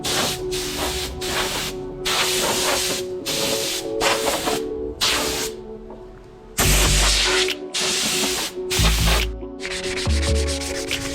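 A paint spray gun sprays in bursts while a garage showroom is prepped, steady loud hissing blasts separated by short pauses, with a longer gap midway, and no talking.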